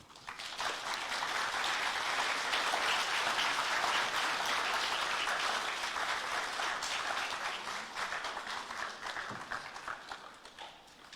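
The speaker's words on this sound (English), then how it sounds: "Can we give him another round of applause, please?" Audience applause after a speech at a university event on education in the Caribbean, with sustained dense clapping from a large crowd for about ten seconds before thinning out toward the end.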